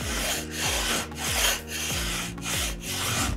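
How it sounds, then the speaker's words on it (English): A wooden inlay is sanded on a flat block, making steady back-and-forth rasping strokes, about eight rhythmic passes in quick succession, close and moderately loud with no voices. "put it really flat and just run over it"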